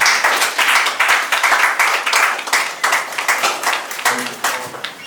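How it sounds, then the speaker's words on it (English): An audience at a finance forum applauds to welcome a bank managing director to the stage, loud, dense clapping from a nearby crowd that runs steadily and thins slightly toward the end. "Can you give a round of applause for him?"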